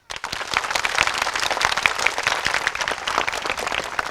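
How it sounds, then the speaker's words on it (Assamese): Applause for the Saptarshi Gurukul of Majuli: a crowd of hands clapping briskly and steadily, near and lively, starting abruptly and holding strong to the end. "সপ্তৰ্ষি গুৰুকুলৰ বাবে এটি হাত চাপৰি"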